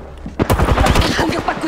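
Rapid automatic gunfire from an Apex Legends match, a dense burst of close shots that runs through most of the short stretch, with a faint voice mixed in.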